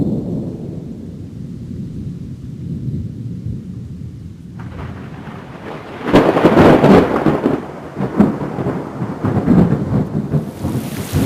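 Thunder and rain sound effect: quiet steady rainfall, then a loud rolling thunderclap breaks in and the downpour grows heavier with further rumbles, no voices.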